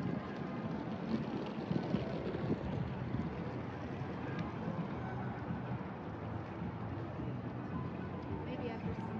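Steady wind rushes across the microphone outdoors on the Las Vegas Strip in the evening, a constant broad roar that stays fairly even throughout.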